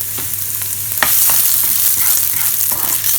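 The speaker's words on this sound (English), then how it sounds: "As I have got onions, I'm going to add my onions in to just start getting them to soften." Onions soften in a frying pan of oil over medium heat, giving a continuous close sizzle with a few scraping stirs and a sharper burst of frying partway through.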